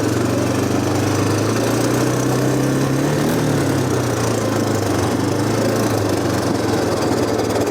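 A 1987 Honda TRX250 ATV engine idling up close, a loud, steady, slightly rough putter with a low drone that shifts pitch gently partway through.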